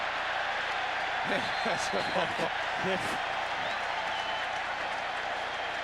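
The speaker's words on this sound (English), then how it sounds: "Achilles, he hears the crowd roar." A stadium crowd roars steadily at a 2000 NFL game, Miami Dolphins at Cincinnati Bengals, a dense wash of noise that stays loud throughout, with someone commentator talking over it.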